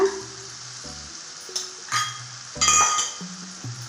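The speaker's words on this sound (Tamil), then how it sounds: "இது எல்லாத்தையும் சேர்த்து கொஞ்சமாக வதக்கலாங்க" Vegetables with a little turmeric sizzling and sautéing in a pan, with a few scraping stirs and light clinks of a utensil against the pan.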